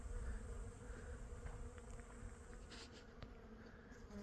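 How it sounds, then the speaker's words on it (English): Bees buzz busily around a blooming almond tree in a California orchard, a dense, continuous droning hum with individual insects passing close by, faint overall and with no talk. "This tree here is really in bloom. Bees are all over it."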